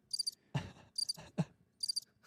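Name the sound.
crickets chirping sound effect played as a joke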